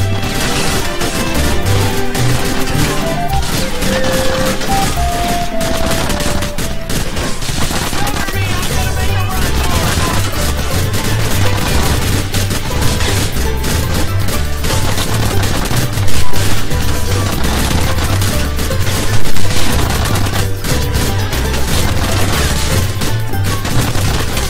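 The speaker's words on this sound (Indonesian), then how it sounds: "Gak habis pikir gua ditembak tubi-tubi gitu." Rapid gunfire in GTA IV aimed at a club guard, dense bursts of shots and clattering impacts sounding almost continuously and loud over a thumping background beat.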